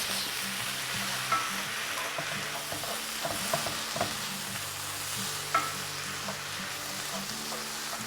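Summer squash sizzles steadily in a hot pan with sugar, salt and pepper, while a utensil stirs and scrapes with occasional sharper knocks, all close and continuous with no talking.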